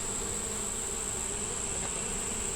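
A hive of honeybees drones in a continuous close buzz, steady and unvarying throughout, with no talking over it.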